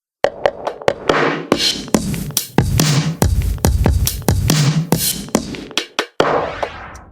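A drum loop plays through the Soundtoys Filter Freak 2 Come Together preset, with punchy kicks and snares under sweeping, throbbing filter movement, loud and upfront with no talk.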